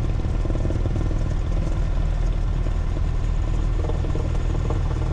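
A light aircraft piston engine running steadily at nominal static power, a loud, continuous low drone with a dense pulsing throb and no voices.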